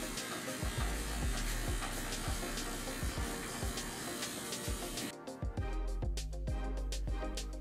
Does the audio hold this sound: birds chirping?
no